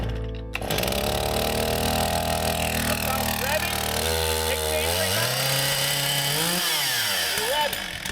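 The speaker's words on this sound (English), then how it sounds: "We eventually move outdoors, with Brandon showing us how to fire up the saws we'll be using." A chainsaw sputters to life and idles loudly nearby, its motor pitch shifting and dipping as it is revved and eased back.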